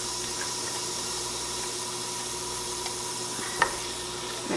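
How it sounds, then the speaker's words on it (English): Onions frying in oil preheated in a pot for butternut squash and white bean soup, giving a steady low sizzle throughout with one brief sharper crackle near the end; no talking. "Now we're going to add our onions. We've got our oil already in here heating up."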